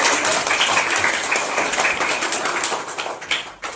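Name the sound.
children clapping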